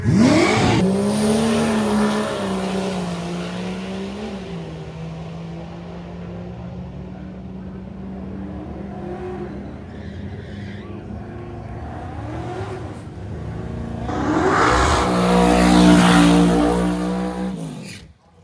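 A drag racing car at Drag Week 2025 roars past at full power, a rising harmonic whine that fades in the middle and swells loud again near the end, with no talk.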